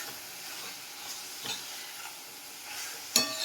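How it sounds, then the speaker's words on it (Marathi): Grated coconut and jaggery filling is stirred in a pan with soft scraping and a faint sizzle, with a sharp spoon knock near the end, quiet and close with no talk. "छानपैकी आपण थोडंसं हलवून घेऊ"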